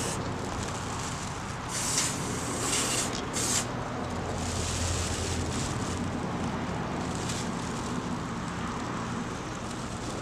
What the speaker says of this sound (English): I'm gonna spray closely to this